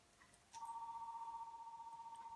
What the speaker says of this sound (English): That's my house phone ringing.